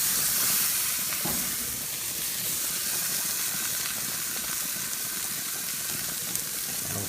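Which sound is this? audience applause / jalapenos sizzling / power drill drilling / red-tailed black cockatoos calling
jalapenos sizzling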